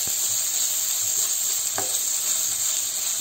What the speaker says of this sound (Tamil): கொஞ்சம் லைட்டாக வந்து பன்னீரை வந்து ஃப்ரை பண்ணி